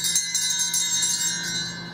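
Bells ringing in a continuous shimmering wash of overlapping metallic tones, steady and moderately loud throughout with no voices.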